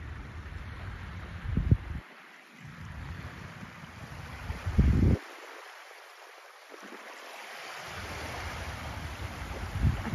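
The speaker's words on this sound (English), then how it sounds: "But this is where low tide is in Ryde. That is a lot of beach." Open low-tide beach ambience at Ryde on the Isle of Wight, with steady wind rush over the microphone, soft distant water and a few brief low thumps and handling bumps, no speech.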